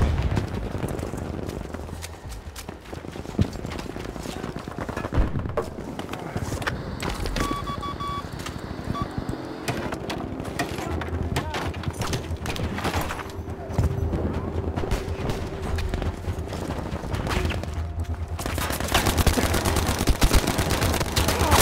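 Gunfire in Battlefield 5 crackles and rattles in bursts through a busy, noisy battle soundscape, with engine rumble and clatter mixed in and little clear talk.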